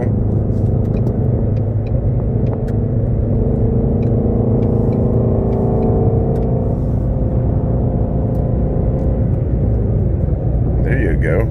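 A Ford Mustang GT350 engine drones steadily at cruising speed on an interstate in sixth gear, a continuous low rumble with road noise that holds even throughout, close inside the cabin.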